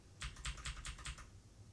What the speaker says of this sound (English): you can use your arrow keys too